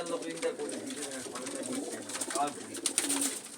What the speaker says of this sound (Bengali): এই একটা কবুতর ফকির গুল দেখেন দাদা